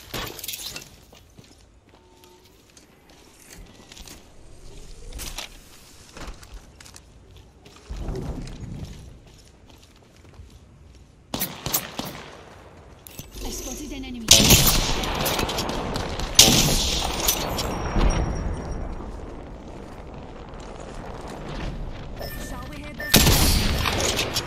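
Gunfire cracks out in the battle royale game Apex Legends, with scattered single shots early on and heavier bursts and rapid volleys later, loud and close. Game voice lines and other sounds come through between the shots.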